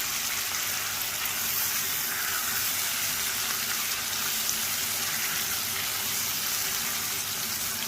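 Small shrimp stir-fried with onion and spices in a pan, giving a steady, dense sizzling hiss that holds at an even level throughout, close by with no talking.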